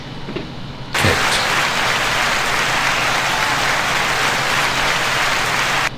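Dense, steady applause from a clap button erupts suddenly after a quiet moment and holds at a constant, fairly loud level to the end.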